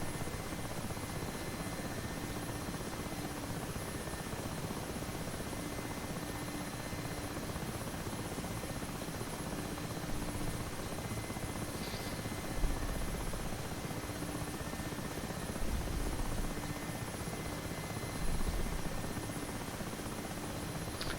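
A Mi-8 Hip helicopter in the DCS World flight simulator drones with a steady, dense rotor and turbine roar that holds evenly throughout, with small bumps in level.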